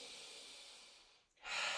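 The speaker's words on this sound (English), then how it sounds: "Take a nice deep breath." A single deep breath during a strength flow fitness class: a long, steady, airy inhale that fades into a short pause, then a fuller exhale, close and soft with no talking.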